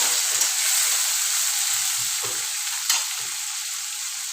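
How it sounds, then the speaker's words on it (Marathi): Chopped tomato sautéing in a hot pan for Indian home cooking, a steady broad oil sizzle throughout with a few soft stirring scrapes, close and fairly loud with no talking. "टोमॅटो थोडा परतून घ्यायचा."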